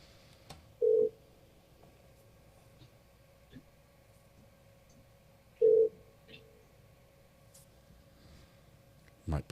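A telephone rings back over speakerphone, two clear tonal ring bursts about five seconds apart, fairly faint, with quiet clicks and room noise between them.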